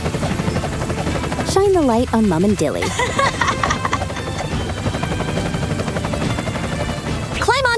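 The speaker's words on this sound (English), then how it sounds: "Yeah, it's the rescue helicopter." A rescue helicopter in a cartoon flood scene thrums steadily overhead throughout, with a character speaking over it and brief swooping effects.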